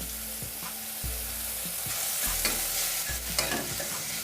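Chopped tomato with turmeric, chilli powder and salt fries in a pan, a continuous close sizzle broken by regular scraping stirs with a spatula, no voices.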